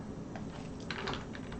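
Computer keyboard arrow keys tapped while editing sprite frames in Spred64, a handful of soft, quick clicks, a few close together near the middle, over a steady background hiss.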